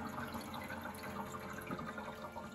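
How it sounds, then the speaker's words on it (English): A small pump in a Frigidaire 26-lb countertop ice machine fills the ice tray, giving a steady close hum with faint trickling water throughout. "And now a little pump is running."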